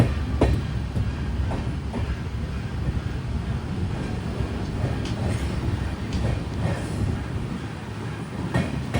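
A Madurai passenger train on the Rameswaram to Tirunelveli route runs steadily along the rails with a continuous rumble, rhythmic clickety-clack of wheels on joints and wind buffeting the microphone, heard from inside the carriage without talk.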